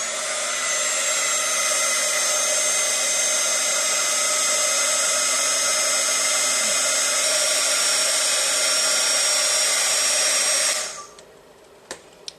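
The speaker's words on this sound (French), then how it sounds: "J'ai oublié de vous parler du pistolet à air chaud, mais qui bien sûr est indispensable lorsqu'on fait de l'embossage." A heat gun used for embossing blows with a loud, steady, close whooshing hiss for about ten seconds, then switches off, leaving quiet room tone with a couple of small clicks.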